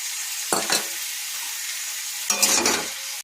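Chopped chicken pieces for a stew drop into a hot pan, setting off a steady sizzle punctuated by two brief bursts of stirring and scraping, one early and one near the end, before cutting off.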